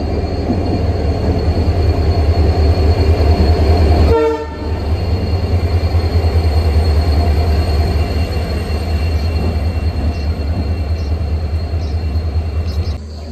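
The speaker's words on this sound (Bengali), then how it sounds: "বিবেক এক্সপ্রেস আসছে।" An overnight long-distance express train, running from Kanyakumari to Dibrugarh, rolls into a station with a steady heavy rumble of wheels on rails. A sharp horn blast sounds partway through, then the rolling continues.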